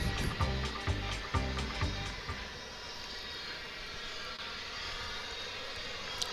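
A jet airliner arriving from Honolulu at DFW International Airport produces a broad, steady roar that follows a few louder thumps at the start and holds evenly, heard from a distance.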